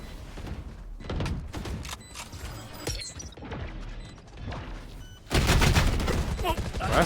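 Valorant gunfire in a competitive esports match, with bursts of sharp shots and impacts over a busy game mix, ending in a sustained loud stretch of crowd or game noise.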